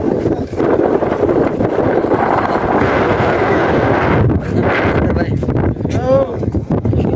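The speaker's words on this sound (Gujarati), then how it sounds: "ઓહો પવન આવે છે" Strong gusty monsoon wind on Girnar mountain roars and buffets the microphone nonstop, with a voice briefly breaking through near the end.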